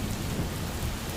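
Steady rain with rumbling thunder from a night city thunderstorm, a dense low roar of falling rain and a sudden loud thump at the very end.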